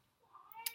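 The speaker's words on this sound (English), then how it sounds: "Sorry, that's my cat." A house cat gives a single short meow that rises and ends abruptly, heard alone and fairly faint indoors.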